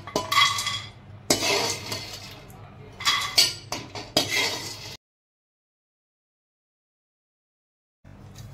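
A spatula scrapes and clinks against a metal kadai as ingredients are stirred and roasted, in a few close bursts broken by a long stretch of silence.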